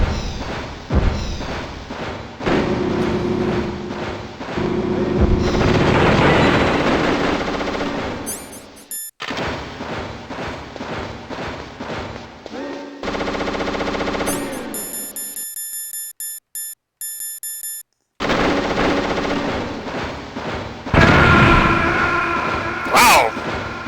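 Rapid machine-gun bursts rattle loudly in Metal Gear Solid while shooting down a target, broken by a few abrupt silent gaps and louder booming stretches.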